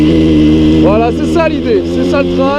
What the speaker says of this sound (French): On entend le moteur, le son est grave, hein